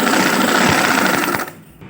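An electric sewing machine stitches a folded fabric strip along a kurti hem in a loud, steady, fast mechanical whir, close by, slowing and stopping near the end.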